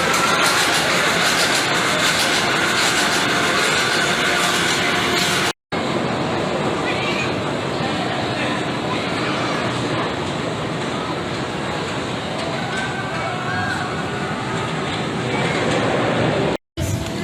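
The Goliath roller coaster at Six Flags Over Georgia rumbles loudly along its track, with a constant rushing roar of wind and wheels, broken by two brief cuts of silence.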